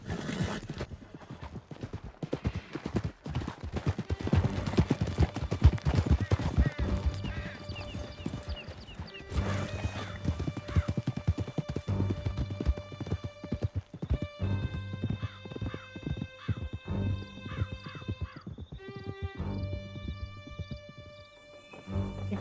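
Horses gallop hard through a canyon in Red Dead Redemption 2, a dense rapid clip-clop of hooves with occasional whinnies, loud and continuous over a game music score that swells and shifts in the second half.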